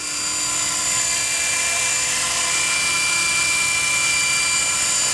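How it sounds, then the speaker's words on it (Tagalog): A Hirobo Shuttle electric RC helicopter flies at an open field, giving a loud, steady high-pitched rotor and motor whine that holds constant throughout with no talk. "There's Jerome flying his electric shuttle."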